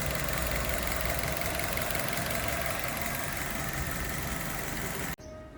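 A 2018 Maruti Baleno with an automatic transmission, a used car, idles with a steady, smooth mid-range engine hum that holds evenly up close and then cuts off abruptly just before the end.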